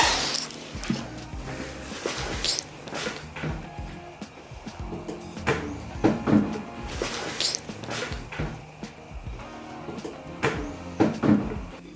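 Wooden DIY drawers sliding and knocking into a handmade cabinet inside a camper van, with repeated scraping runs and wooden thumps at an irregular rhythm, fairly close and moderately loud.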